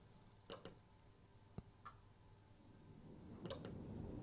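A hotel room air conditioner fan at the DoubleTree Tower of London clicks on, several sharp, quiet clicks in small clusters, followed by a low rising hum of air.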